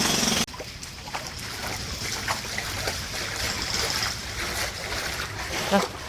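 During monsoon flooding in Kerala, flood water rushes into an overflowing stream, a steady, broad roar of flowing water with scattered splashes, close and continuous throughout.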